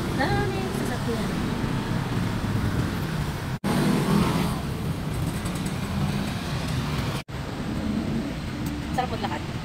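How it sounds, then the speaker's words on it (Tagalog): Traffic of many vehicles on a road in the Philippines, a continuous low engine and tyre rumble heard nearby with voices talking over it and two brief dropouts. "Daming sasakyan."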